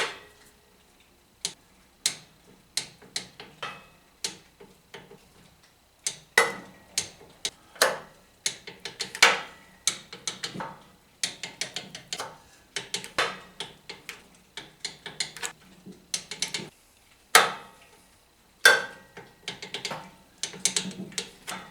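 Torque wrench ratcheting on Tecumseh H60 engine bolts of a 1972 Hahn-Eclipse Snow Giant snow blower, sharp close clicks in irregular bursts with short pauses between pulls.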